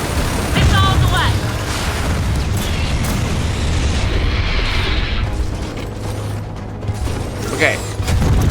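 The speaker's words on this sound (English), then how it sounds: "Missiles away." Missile launches and explosions in Gears of War 4: deep rumbling booms and blasts roll continuously under dense game noise, with a few sharper bursts and whooshes rising near the end.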